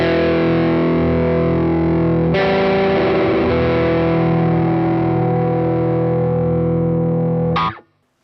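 An electric guitar played through a One Control Baltic Blue Fuzz pedal gives a loud, dark, distorted chord that rings and sustains, then a fresh attack with thick buzzing sustain before it cuts off abruptly.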